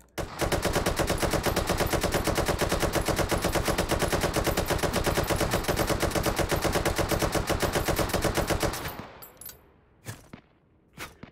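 Sustained automatic gunfire laying down suppressing fire in the VR shooter Hot Dogs, Horseshoes & Hand Grenades, a loud rapid stream of shots for about nine seconds, then a few separate single shots with echoing tails.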